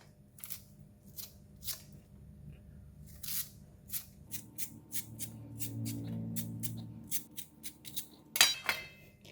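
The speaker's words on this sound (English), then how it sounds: "just use a peeler to skin it out." An arrowhead tuber is skinned with a hand peeler for homemade chips, giving a run of short, crisp scraping strokes at close range, with a brief louder clatter near the end and no talking.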